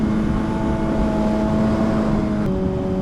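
An MV Agusta Superveloce motorcycle engine holds a loud, steady, close drone, with a brief dip and a slight drop in pitch near the end; no distinct pops stand out.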